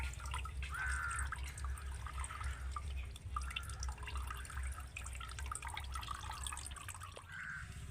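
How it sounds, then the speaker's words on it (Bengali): Water drips and trickles from a cloth of fresh chhena curd as it is twisted and wrung, faint, scattered wet drips over a low background hum. "এইভাবে কাপড়টাকে পাক দিয়ে দিয়ে জলটা ঝরিয়ে নিতে হবে"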